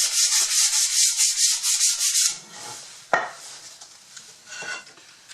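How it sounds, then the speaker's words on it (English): Steady rasping strokes of preliminary sanding on a wooden cabinet skirt for a root vegetable cabinet, taking out machine marks, loud and rhythmic at first, then a single knock and softer, lighter rubbing. "a little preliminary sanding just to get the machine marks out of it."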